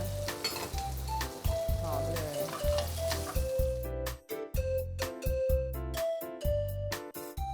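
Chicken steak sizzles and fries in a pan as herbs, rosemary and butter are added, a bright crackling hiss with stirring, heard under background music.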